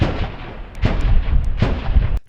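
An armed clash a few streets away in Nusaybin sounds as two or three deep, echoing gunfire bursts with rolling reverberation, ending in a sharp cutoff.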